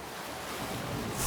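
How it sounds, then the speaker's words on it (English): Water level rising in Metroid Prime Remastered, a continuous rushing, surging wash of water that grows steadily louder toward the end, with no talking. "And the water level will rise."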